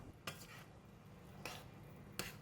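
Tom yum soup in a pot with chili, fish sauce and spring onion stems is stirred, three sharp utensil scrapes and clinks against the pot over a low steady background, no talking.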